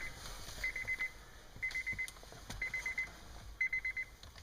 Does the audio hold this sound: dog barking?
no